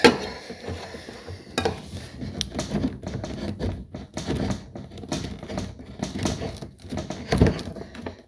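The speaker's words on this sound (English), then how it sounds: "You will start to rub with the tip of the spoon to the sides" A spoon tip rubbing against the sides of a tin can, repeated gritty scraping and metallic rasps in an uneven rhythm, close and fairly loud, with faint handling knocks.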